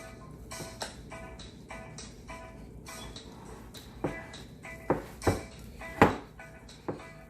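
Purple sweet potato bread dough is mixed by hand in a bowl, giving scattered clinks and soft taps of a utensil against the bowl, growing louder and sharper toward the end, with no talk.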